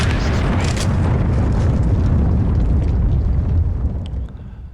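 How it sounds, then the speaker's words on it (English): A bomb detonating in Counter-Strike on the Mirage map: a loud, sustained low rumbling boom that fills nearly five seconds and fades slightly at the end. "The bomb can go off"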